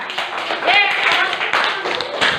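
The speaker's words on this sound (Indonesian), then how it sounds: "tepuk tangan untuk kelompok 4." A classroom of students applauds a student group after its presentation, a dense burst of clapping from many hands that lasts throughout, with voices mixed in.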